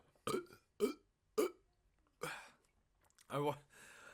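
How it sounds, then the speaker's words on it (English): A person burps about five times in close succession, loud and near, with short silent gaps between the bursts. "talking about my burps"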